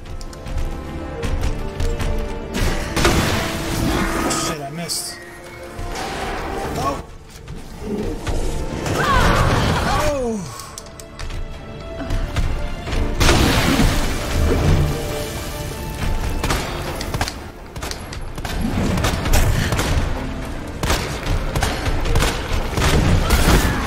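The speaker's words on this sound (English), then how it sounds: "Oh, flashbang." A flashbang grenade detonates in the Resident Evil 2 Remake video game, a sharp boom amid dense in-game blasts, crashes and gunfire-like clatter under a continuous layered game soundtrack, loud throughout with no speech.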